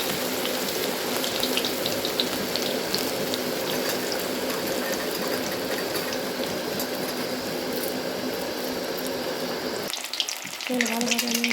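Beguni, battered eggplant slices, frying in hot oil with a steady, dense sizzle that holds for about ten seconds, then briefly thins and picks up again.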